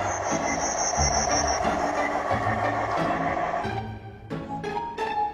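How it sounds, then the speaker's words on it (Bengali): A miniature restaurant train rolls along its track to deliver food to a table, giving a steady clattering rumble with a thin high whine that fades, then a few sharp clicks and knocks as it stops. "তো নাও ট্রেনে করে খাবার চলেই এসেছে"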